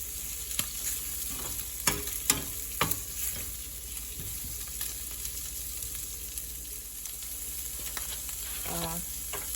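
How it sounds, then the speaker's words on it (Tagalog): Chopped shrimp frying in a pan, a steady sizzle broken by several sharp stirring scrapes and clicks, close and fairly quiet, with no speech. "ilalagay ko na rin ito aking hiniwa-hiwang hipon"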